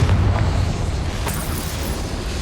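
A booming Confringo spell explosion in the video game Hogwarts Legacy, a loud, dense rumbling blast that stays heavy through the whole short moment.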